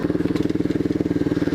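Pit bike engine running close by, a fast, even single-cylinder putter with rapid regular pulses and slight clatter, no talking.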